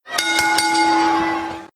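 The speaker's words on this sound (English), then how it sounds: "we hear the bell to get us ready for our next match" A wrestling ring bell struck three quick times before the next match at a WWE pay-per-view, its loud metallic ring then sustaining and fading over about a second and a half, with no voices.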